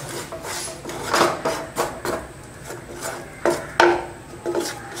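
A semolina and carrot mixture for carrot rava laddu is stirred in a pan off the heat, making close, rhythmic scraping and rasping strokes against the metal.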